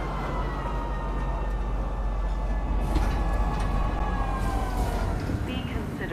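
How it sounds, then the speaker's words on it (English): Train pulling into TISA spaceport in Star Citizen, a steady rumbling rail hum with a faint tonal whine, continuous and fairly loud throughout, with a few brief bright swells of noise partway through. "Arriving, TISA spaceport. Please watch your step when disembarking the train."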